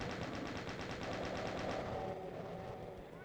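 Rapid machine-gun fire in Doom II on PC, a steady stream of quick evenly spaced shots that fade slightly toward the end, no voices.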